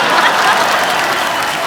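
A studio audience on a Hindi comedy talk show breaks into loud, dense applause, a steady wash of clapping with no pauses across the whole moment.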